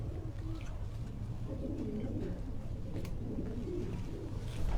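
A slim racing pigeon coos in soft, low, repeated phrases while held in a hand at a racing loft, close and quiet over faint background hum.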